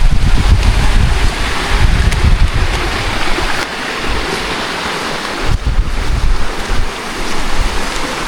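Strong wind roars steadily across the microphone outdoors, loud and close, with surging gusts and a wash like surf beneath, and no voices over it.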